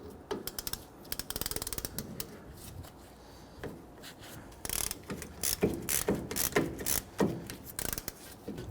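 Ratchet wrench loosening the upper brake caliper bolt on the rear brakes of a Nissan Frontier: rapid bursts of clicking pawl, repeated in short runs with pauses between, close and fairly loud.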